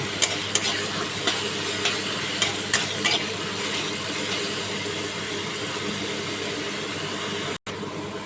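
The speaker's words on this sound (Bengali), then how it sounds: "পেঁয়াজ রসুন বাটাটা দু মিনিট ভালো করে কষিয়ে নেব" Onion and garlic paste sautés in a pan, a continuous close frying hiss with scattered light scrapes and taps of a spatula stirring, steady throughout with one brief dropout near the end.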